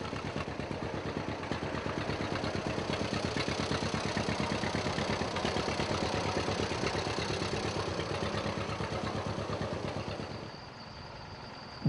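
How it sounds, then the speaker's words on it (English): A John Deere B orchard tractor engine runs steadily with a fast, even chugging pulse and mechanical clatter, close and continuous, easing down to a quieter idle near the end, with no voices. "Larry loves driving around in his John Deere Bee Orchard tractor."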